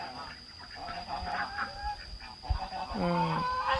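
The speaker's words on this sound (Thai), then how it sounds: "เนี่ยอันนี้ก็จะเป็นคอกเป็ดคอกไก่พอ น้องเมย์เนาะ" Chickens cluck in a duck and chicken pen on a farm, with soft scattered clucks and a clearer drawn-out call near the end, under a person's voice.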